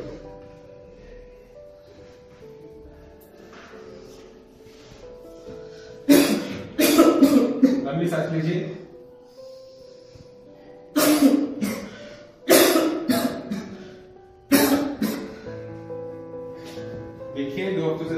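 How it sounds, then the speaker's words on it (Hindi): A man coughs in a doctor's consultation scene from a tuberculosis awareness short film, several loud harsh bursts of coughing in separate clusters, close and clear over a quiet room with soft background music. "सर मेरे को बहुत दिन से खांसी है"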